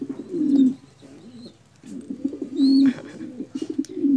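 Young pigeons in a loft give low, throaty coos in repeated bursts, close and fairly loud, separated by short quiet gaps, with a faint high chirp partway through.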